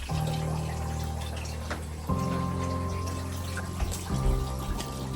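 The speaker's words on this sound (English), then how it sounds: "The sump pump is getting backed up now because there's no power." Water runs and trickles steadily beneath a low mechanical hum from a backed-up sump pump during a power outage after Hurricane Helene, its pitch shifting a couple of times.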